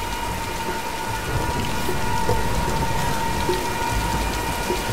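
A Tomb Raider rainstorm with thunder: steady, dense rainfall hisses continuously at a constant loud level, with a low rumble of thunder rolling underneath and a faint sustained tone in the background.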